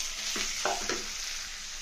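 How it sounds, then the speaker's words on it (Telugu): Washed prawns fry in a pan with ginger-garlic paste: a soft continuous sizzle with a few brief stirring scrapes, faint and close, with no talking. "ఇప్పుడు దీనిలో మనం కడిగి పెట్టుకున్న రొయ్యలు వేసేస్తాం."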